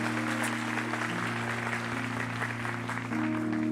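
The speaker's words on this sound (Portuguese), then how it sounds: "Vamos aplaudir ao Senhor" A church congregation applauds the Lord with a steady wash of distant clapping. It sits low in the mix beneath sustained organ-like keyboard chords that shift once or twice.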